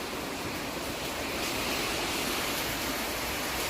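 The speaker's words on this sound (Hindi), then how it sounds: "हाँ बारिश आ गई, बारिश आ गई, बारिश आ गई" Heavy rain pours steadily outside an open door during hot weather, a dense, unbroken hiss that stays even and loud throughout with no voices or other sounds standing out.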